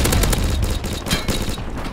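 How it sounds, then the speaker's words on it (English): A friendly airstrike in a first-person shooter unleashes a loud, dense barrage of rapid explosions and gunfire-like cracks that fills the short burst without a break. "Friendly airstrike on the way."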